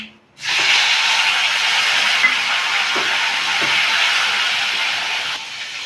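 Chopped tomatoes hit hot oil with bay leaf in a pan for khichuri, bursting into a loud continuous hiss that holds steady after a short quiet start, with faint clinks of stirring underneath.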